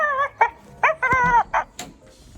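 A puppy yips and whimpers in a string of short, high, wavering cries, fairly close, with a few brief pauses between bursts and faint indoor background noise.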